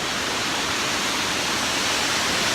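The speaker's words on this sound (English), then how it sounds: "These waterfalls are amazing." Ouzoud waterfalls in Morocco pour in a steady, loud, broadband roar of falling water, continuous and close without a break and with no voices.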